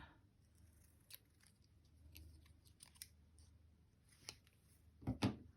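Scissors cutting paper for stamping designs onto plain white envelopes: a few soft, close snips and paper rustles spread across the clip, ending in louder crisp cuts and handling near the end.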